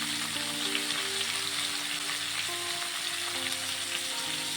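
Banana pieces, sliced and earlier soaked in turmeric water, fry with a steady close sizzle in a pan while being stirred, the crackle continuous throughout with no talking.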